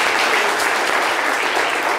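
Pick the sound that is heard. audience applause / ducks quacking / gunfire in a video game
audience applause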